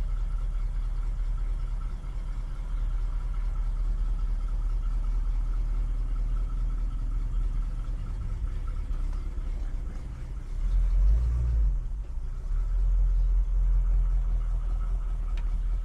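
A 1967 Chevrolet Chevelle convertible runs with a steady, low engine rumble from inside the car, swelling briefly as it pulls away in drive, with no talk over it.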